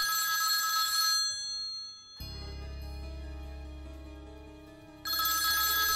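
A telephone rings in a Telugu thriller film scene, with bright electronic ringing bursts at the start and end around a low sustained tone in the middle, clear and moderately loud with no talking.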